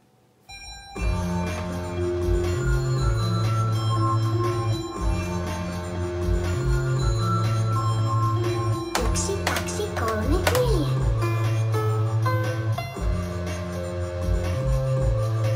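Circuit-bent electronic toy sounding synthetic piano-like tones and buzzy sustained electronic notes in a wobbly looping pattern, with glitchy pitch-bending chirps partway through, close and moderately loud.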